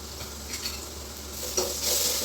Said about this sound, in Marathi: त्याचा वास जाईपर्यंत चांगलं परतून घ्यायचे